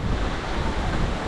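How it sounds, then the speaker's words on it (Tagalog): Heavy rain and gusting wind during super typhoon Uwan, a dense, steady roar of downpour mixed with wind buffeting the microphone, loud and close with no talking. "Ang lakas ng ulan."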